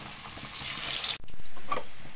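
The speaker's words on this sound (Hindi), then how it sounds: "एक एक कर डुबाएंगे और उसको फ्राई करेंगे" Wheat flour batter snacks deep fry in hot oil over high heat, a steady loud hiss and crackle that cuts off abruptly, then resumes with softer bubbling sizzle.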